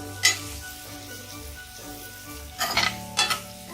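Spices being stirred into potatoes in a pan over a medium-low flame for a home-style aloo matar curry, with a soft steady sizzle under scraping strokes and a few louder scrapes of the spoon against the pan near the end.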